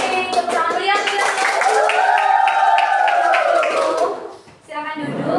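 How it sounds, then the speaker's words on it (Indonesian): Lively clapping from a classroom or school audience in Indonesia, rhythmic hand claps layered under a sung or chanted melody of voices, fading briefly before the claps resume near the end. "tepuk tangan meriah kita"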